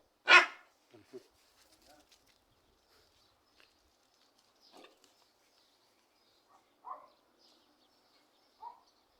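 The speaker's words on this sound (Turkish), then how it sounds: "Sevimli köpeklerimizi çekiyoruz, bakın." Sporadic short sounds from dogs at play, a sharp bark-like yelp followed by scattered scuffles and faint yips with quiet gaps between.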